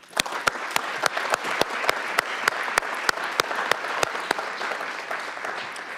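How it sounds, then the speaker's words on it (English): An audience at a city mayor's State of the City address breaks into steady applause, a dense, continuous wash of clapping with sharp individual claps standing out, sustained for several seconds without speech. "I'd like just to give a round of applause for all of our city workers"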